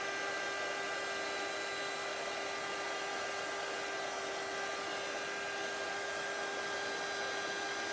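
A heat embossing tool runs continuously as it heats from beneath, a steady, loud, even fan-like whoosh with a constant hum, no voices.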